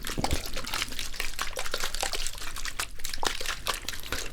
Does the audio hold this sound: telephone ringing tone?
no